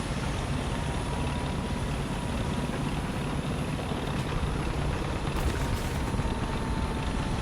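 A Ka-50 helicopter in War Thunder makes a steady, loud, dense rotor and engine drone that holds evenly throughout, with no speech.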